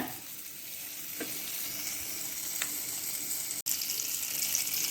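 Ingredients for butter garlic drumstick leaves frying in melted butter with cumin in a pan, a continuous close sizzle with occasional stirring scrapes and one brief break in the sound.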